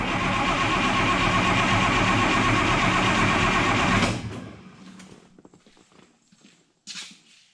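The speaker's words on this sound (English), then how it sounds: "we're just going to crank it till we start getting fuel at the injector lines" A diesel engine on an Oliver 1950T tractor cranks loudly and steadily for about four seconds, then stops, leaving faint clicks and a brief knock.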